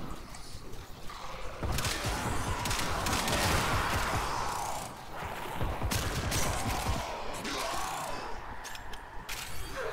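Steady gunfire from the shooter game Warframe, including the Stahlta weapon, a dense rapid stream of shots that runs almost unbroken with a brief dip midway, loud and close with no speech.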